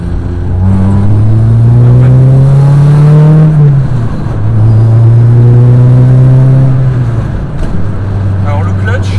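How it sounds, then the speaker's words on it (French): Honda Civic EK9 or Integra DC2 engine revving loudly and close, the pitch climbing and falling in two long sweeps before settling to a steady idle. "L'accélérateur, tu touches un tout petit peu, t'es déjà à 3000 tours."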